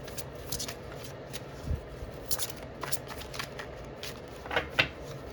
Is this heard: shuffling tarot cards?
yes